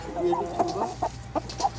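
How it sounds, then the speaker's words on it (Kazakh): Chickens and roosters cluck in a series of short calls at a busy poultry market in Bishkek, with a murmur of background noise beneath them. "Эми тоок базарларга өтөбүз."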